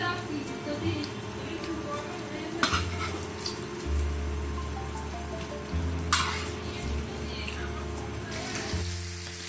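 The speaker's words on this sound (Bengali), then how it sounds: "এজন্য একটি ফ্রাই প্যানে আপনার সয়াবিন তেল দিয়ে এর ভিতরে মাছগুলো সব ছেড়ে দিলাম।" Hilsa fish fry in soybean oil in a frying pan, giving a moderate sizzle with occasional utensil clatter, partly under a person talking.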